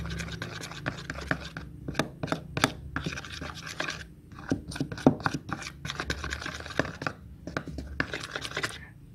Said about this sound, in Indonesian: Kita kasih air panas, terus kita aduk